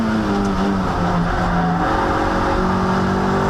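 A Toyota MR2 race car at Silverstone International climbs back up to speed after a spin, its engine note loud and close, rising through the gears with shifting harmonic tones.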